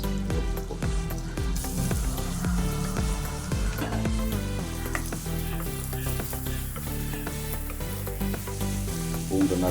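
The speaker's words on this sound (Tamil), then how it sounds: "பூண்டு நல்லா ஃப்ரை பண்ணிக்கங்க" Chopped garlic frying in hot oil in a pan while making prawn thokku, a steady, dense sizzle with occasional stirring scrapes throughout.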